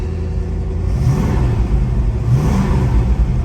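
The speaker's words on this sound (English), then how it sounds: "You can hear the engine very good" A cold 1968 Ford Mustang R-code Cobra Jet V8 with a 4-speed and 4.30 gears, choke on, idling nearby as a deep steady rumble that swells slightly twice.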